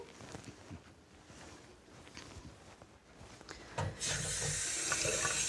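Water runs from a tap into a glass in an old-fashioned school setting, a soft steady trickle that swells into a louder, brighter gush near the end, close by with no talking.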